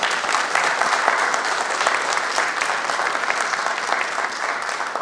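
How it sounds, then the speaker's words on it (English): Sustained applause from an audience at a community awards ceremony, steady and dense clapping filling the whole stretch at a moderate distance, with no speech over it. "Can we give a round of applause to Summer Gaston Garris?"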